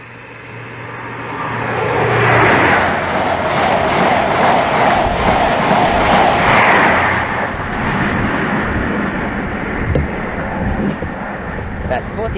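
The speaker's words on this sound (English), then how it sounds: "And now passing through the train. This is 1 Alpha 20, the 11:38 Virgin Trains East Coast service from Leeds to London King's Cross" A Virgin Trains East Coast service from Leeds to London King's Cross passes through Stevenage station on the East Coast Main Line, a loud sustained rush and rumble that builds quickly, holds for several seconds, then eases slightly, with a voice heard over it.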